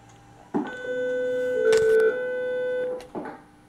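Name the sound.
intercom phone beeping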